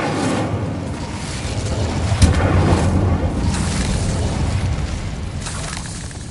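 An Incendio fire spell is cast in Hogwarts Legacy: one sudden whooshing burst flares up over a steady, rumbling background of game ambience.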